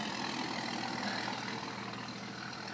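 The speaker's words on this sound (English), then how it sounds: "So many trucks." Trucks passing by on a nearby road, a steady low engine rumble and tire roar heard faintly at a distance, unbroken throughout.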